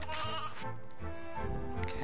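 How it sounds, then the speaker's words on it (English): A sheep bleats twice in the Toy Story 2 video game, wavering cries close and clear over a low game background. "And there's another sheep."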